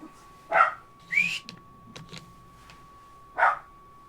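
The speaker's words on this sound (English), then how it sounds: "She barks at Narcissus" A dog indoors lets out a few short, sharp barks or yips spaced over several seconds, close and fairly loud, over a faint steady background tone.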